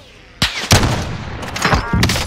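Video game gunfire in Call of Duty: several loud, sharp shots in quick succession, each with a ringing tail, the firing sparse at first then clustering into bursts toward the end.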